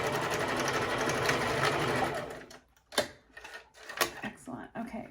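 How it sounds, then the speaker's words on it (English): A sewing machine stitching a fabric face mask runs in a steady, loud whir for about two seconds, then stops; short bursts of back-tacking follow among soft clicks and handling noises. "Always back tack and then continue stitching and then back tack at the end."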